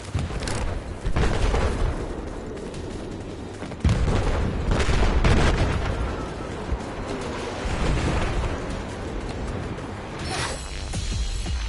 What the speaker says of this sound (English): I'm gonna shoot that shit down too.